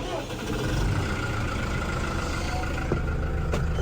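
A Cat D3 bulldozer engine idles outdoors at sunrise with a steady low rumble, close and continuous, while someone talks over it.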